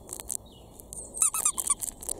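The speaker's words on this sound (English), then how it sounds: "he has also plastic in the right under the face and a squeaker" The squeaker inside a plush dog toy gives a rapid run of high, sharp squeaks, loud and close, with a brief pause before a burst of quick squeezes.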